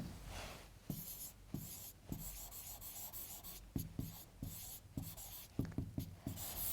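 A pen scratches steadily across paper while a physics solution is written out, with continuous close rubbing strokes broken by regular sharper taps and pauses between words.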